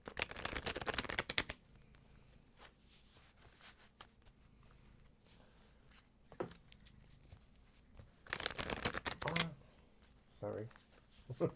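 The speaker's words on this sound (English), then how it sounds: "Well, I'll shuffle here." Tarot cards being shuffled by hand, two bursts of rapid riffling flutter separated by quieter handling noises and brief talk.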